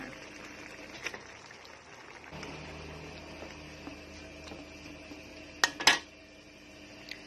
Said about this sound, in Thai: เราก็ใส่หน่อไม้ลงไปเลยค่ะ